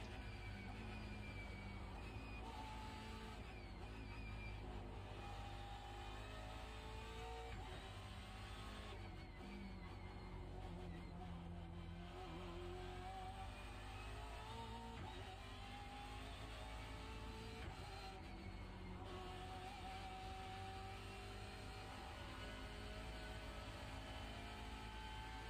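BMW race car engine in the iRacing sim game, droning and revving continuously at steady loudness for the whole stretch, with no talk over it.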